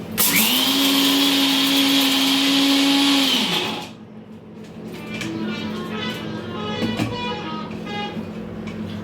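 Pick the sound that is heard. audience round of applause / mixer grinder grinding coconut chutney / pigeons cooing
mixer grinder grinding coconut chutney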